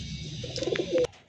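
Pigeons of a highflyer breed cooing at a home loft, a few soft, close rolling coos in a short burst with no talk.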